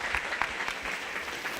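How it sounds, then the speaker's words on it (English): Audience applause rings out at a youth 4-H/FFA cattle show featuring beef and bucket calves, a steady crackle of clapping filling the brief moment at moderate volume. "Let's give her a nice round of applause."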